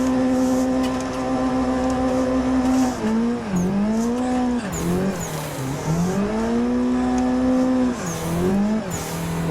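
Car engine in a video game revving high and dipping repeatedly as the clutch is kicked during a drift, with tire squeal through the slides; loud, continuous and close, no voices.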